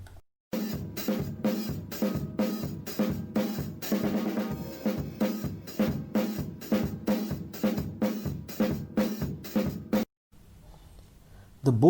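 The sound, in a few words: calypso style rhythm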